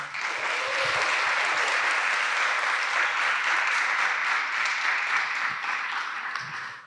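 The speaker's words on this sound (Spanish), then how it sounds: "que vamos a darle un aplauso" An audience applauds steadily after a film trailer screening, a broad, even wash of clapping held at full strength for several seconds before tapering slightly at the end.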